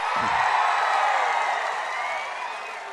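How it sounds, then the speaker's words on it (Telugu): Large outdoor crowd at a TDP public political rally in Cheepurupalli clapping and cheering, a dense, loud wash of applause and shouts that holds steady and eases slightly toward the end. "గెలిపిస్తామని గట్టిగా చప్పట్లు కొట్టి"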